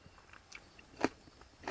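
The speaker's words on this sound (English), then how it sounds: "Oh, hear that crunch." Quiet, close crunching of a chili cheese dog: a few soft bites lead to one sharp, crisp crunch, followed by faint chewing.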